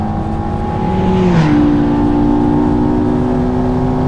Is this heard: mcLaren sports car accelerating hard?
yes